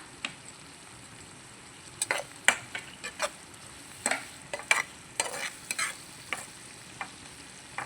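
A spatula stirs brinjal curry with green chilies and turmeric in a pan, giving a series of irregular close scrapes and knocks over a soft background sizzle.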